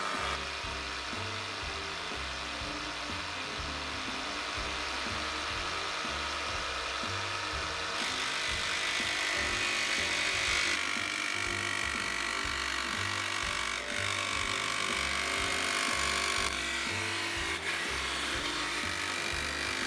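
A Rockwell Blade Runner benchtop jigsaw-type saw runs steadily for stainless steel tile cutting, giving a loud, continuous mechanical buzz with a rapid rhythmic reciprocating chatter underneath and brief shifts in intensity partway through.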